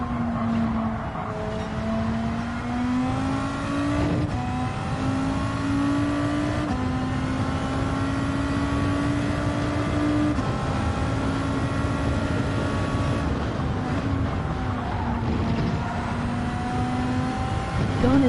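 A Renault race car engine in a racing video game set at Brands Hatch, revving and shifting through rising gear pulls with repeated upshifts, loud and continuous across the stretch, alone without talk.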